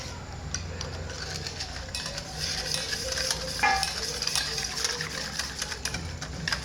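Gram flour batter for khandvi is stirred and mixed in a pot, with a steady scraping and tapping of a spoon against metal going on close and continuous.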